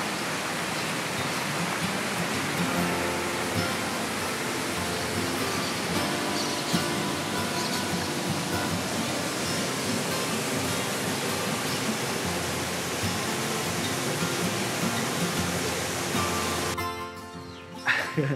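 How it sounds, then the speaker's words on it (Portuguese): A waterfall in the Maciço de Baturité hills pours in a loud, steady, broadband roar that runs unbroken for many seconds, close by and alone, before cutting off abruptly at the very end. "A gente só passou a cerquinha que tem aqui e teve acesso a essa cachoeira."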